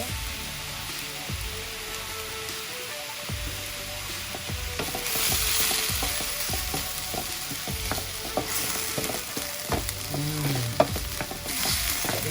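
Prawn gravy with ketchup fries in a pan under a steady sizzle, while a spoon stirs and scrapes through it in repeated close strokes and no one speaks.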